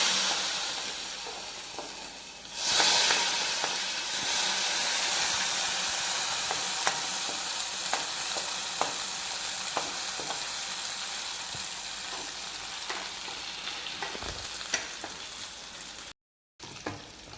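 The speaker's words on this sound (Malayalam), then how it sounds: "ഇതിലേക്ക് ഈ വറവിട്ട് കൊടുക്കാം" A tempering poured into a curry in a pan sets off a sudden loud sizzle that slowly settles into a steady hiss, with occasional spoon clicks from stirring.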